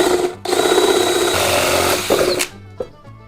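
A power drill whines loudly as it bores holes through wood for a wine bottle holder, then stops, followed by a couple of short bursts and a clunk.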